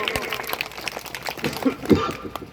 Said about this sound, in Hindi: बजाओ ताली अगर सही है तो